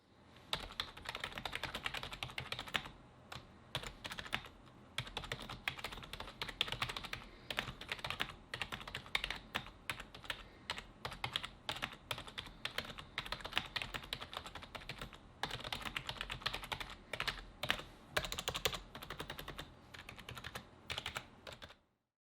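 Rapid, crisp clicking of a Corsair K55 Pro XT gaming keyboard being typed on continuously, keys clattering in uneven bursts up close with no talking.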